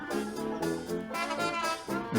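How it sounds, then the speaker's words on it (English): A band plays as picked up by a microphone placed on the trumpet, with trumpet lines and drums blended at similar loudness in a short, roomy excerpt. "This is the sound just from the trumpet mic."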